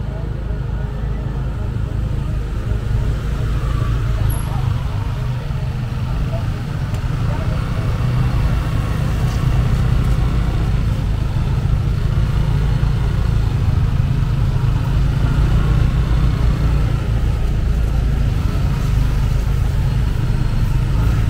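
Cars and motorcycles idle and roll through busy traffic near Double Six Beach, a steady low engine rumble that goes on without a break, with faint talk over it.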